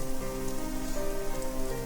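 Steady autumn rain patters on a surface, a dense continuous hiss of drops at close range with no voices.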